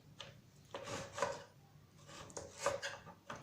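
A knife slices through vegetables on a board for a simple vegetable pizza, giving soft rhythmic rubbing cuts, close and quiet, repeating in two short bursts.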